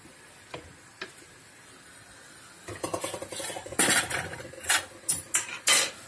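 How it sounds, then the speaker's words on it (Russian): Plum jam boiling in a pot while a spoon stirs it, sparse ticks at first, then a run of clattering scrapes and knocks against the pot, close and increasingly busy. "А варенье этим временем кипит рядышком. Я его все время помешиваю."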